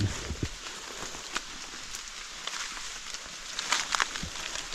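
Steady rain falls outdoors as a faint, even patter on surfaces, with scattered small taps and drips and no voices.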